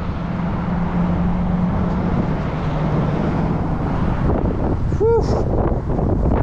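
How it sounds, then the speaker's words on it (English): Strong, ferocious wind roars and buffets the microphone throughout an outdoor walk, loud and continuous, with a man briefly exhaling near the end. "Man, it's not a pleasant walk today. This wind is ferocious."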